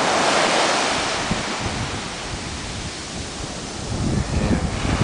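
Surf rolls and washes ashore at the southern end of Kata Beach in Phuket, a dense, continuous roar of breaking waves with wind buffeting the microphone.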